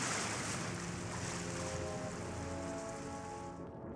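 Ocean waves at sea wash and roll continuously in a steady broadband surf roar, loud and close with no voices, fading slightly at the very end.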